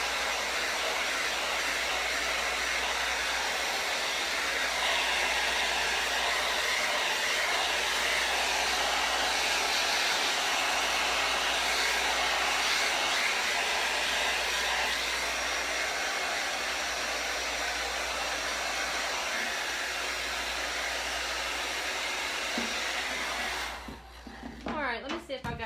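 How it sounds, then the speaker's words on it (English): A blow dryer runs steadily and loudly for about 24 seconds while paint on Christmas ornaments is dried, its airflow roar rising and falling slightly as it is moved, then cutting off near the end. "moving the blow dryer."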